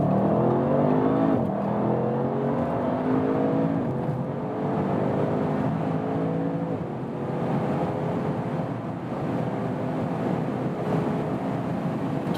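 A 2020 Audi RS7 Sportback V8 accelerates hard from a rolling start of about 40 km/h, its engine note climbing steadily through the gears with brief dips at the shifts, loud and continuous with wind noise.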